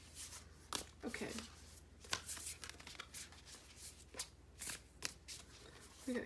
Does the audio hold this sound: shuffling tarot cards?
yes